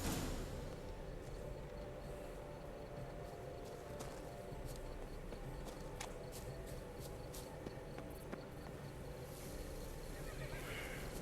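A horse whinnies in The Witcher 3: Blood and Wine over a dense, steady game soundscape with faint chirping insects, the neigh mixed in rather than standing out.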